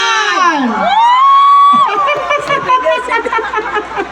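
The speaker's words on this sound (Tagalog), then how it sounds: "Palakpakan na may kasamang hiyawan for candidate number 1!" Crowd at a local male pageant in Cawayan cheers for candidate number 1, with a long rising shout and squeals at the start breaking into a loud, sustained mix of clapping, whoops and chattering voices.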